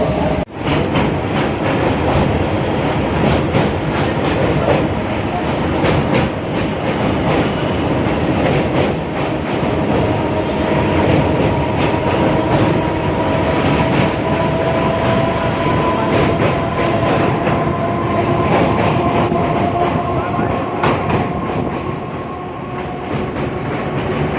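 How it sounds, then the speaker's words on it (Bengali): A Howrah to Burdwan local train runs near Dankuni, its loud continuous rumble and rattle of carriages steady throughout with faint clickety-clack and no talking. "আমরা এখন ডানকুনিতে ট্রেন ছেড়ে দিয়েছি"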